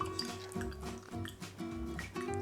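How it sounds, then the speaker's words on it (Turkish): Vanilla syrup poured over a tea glass, giving a quiet, close liquid trickle with soft dripping and glugging pulses over a couple of seconds. "Vanilya aromalı şurubumu şöyle çay bardağımın üzerine döküyorum."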